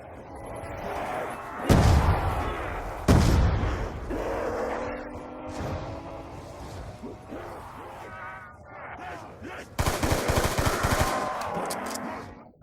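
RPG blasts and gunfire from Call of Duty: Black Ops II: two sharp heavy shots early on, then a denser burst of fire later, with game noise and some talk in between.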